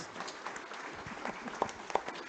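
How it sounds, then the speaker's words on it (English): An audience at a history lecture on Mississippi Choctaw storytelling gives a round of applause, a soft, fairly distant patter of clapping with a few sharper nearby claps standing out. "Let's give Tom and Rae Nell Vaughn a round of applause"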